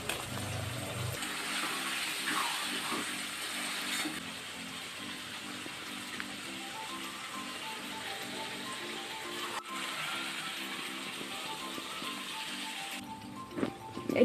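A soaked pot being washed in a home kitchen: continuous running water from a tap with splashing and scrubbing, plus intermittent metallic clinks and knocks nearby.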